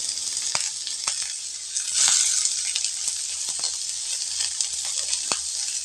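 Onions and garlic sizzle steadily in hot oil, a continuous close hiss broken by occasional crackles and a brief louder flare of spattering near the middle.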